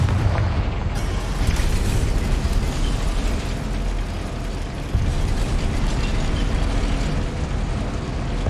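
Confringo fire spell blast in Hogwarts Legacy, a dense, loud rumbling explosion with crackling debris sustained throughout, one sharp burst midway.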